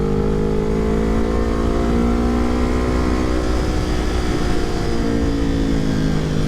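A Kawasaki Ninja 400 motorcycle with a newly replaced clutch rides off, its engine droning loud and steady as the pitch climbs and shifts, heard close by with no talking.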